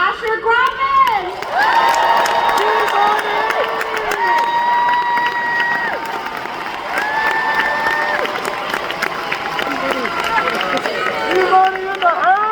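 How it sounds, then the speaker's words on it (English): A large crowd at a Comic-Con convention panel claps and cheers loudly, with sustained whoops and shouts over scattered clapping for several seconds. "Clap it up for Asher Grafman!"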